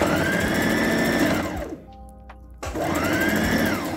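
A sewing machine runs a straight stitch on a bra with fast, even mechanical whirring, close and loud, stopping briefly midway before starting up again.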